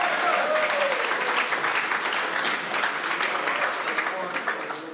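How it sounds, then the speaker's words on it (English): A team gathered for a company all-team update claps for a colleague, the applause a steady wash of many hands filling the room for several seconds without clear speech over it. "Let's give him a little clap."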